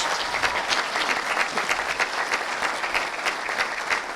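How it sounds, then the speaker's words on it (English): Steady audience applause, many hands clapping in a dense continuous patter that holds at an even level throughout. "One more round of applause for all 3 of them."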